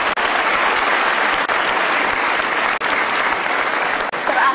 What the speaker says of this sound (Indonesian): Kita kasih tepuk tangan, Mbak